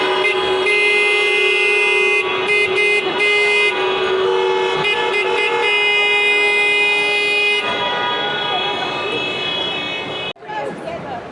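A classic car horn at the NEC Classic Motor Show sounds in a loud, sustained honk lasting most of several seconds, with brief breaks and a final short toot, alongside exhibition-hall noise.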